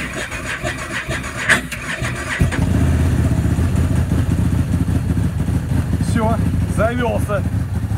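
An OSM SM1000 snowmobile engine cranks and fires up outdoors in the snow, then settles into a steady, close, droning idle, with a voice briefly heard over the running engine.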